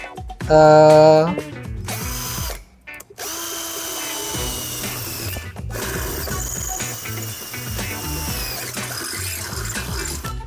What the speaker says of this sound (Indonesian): lalu kita bor